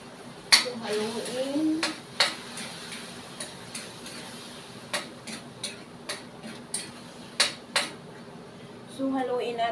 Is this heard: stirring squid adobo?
yes